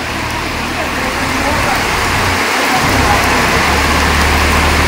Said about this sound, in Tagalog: Maulan po ngayon dito sa Balangkas.